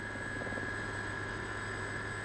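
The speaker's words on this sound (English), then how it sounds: "We flew to Saunders by Army Air Corps helicopter." An Army Air Corps military helicopter in the Falkland Islands, 1983, drones loudly and steadily, its rotor chop and engine whine constant throughout with no pauses.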